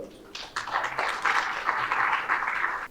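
Audience at a Women's Day gathering in Raipur breaks into applause for a senior doctor invited to speak, a short burst of moderate clapping that swells and holds for a few seconds.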